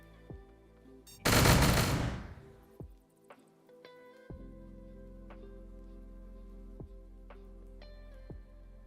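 Enemies open fire on a penguin in a Unity3D video game: a loud burst of rapid gunfire, then scattered single shots and clicks over a steady game music drone.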